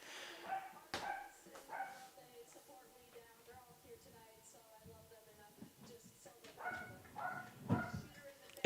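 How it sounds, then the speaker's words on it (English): Dog barking and yipping indoors in short, faint, scattered bursts, with a voice talking quietly between the barks. "If you hear my dog barking"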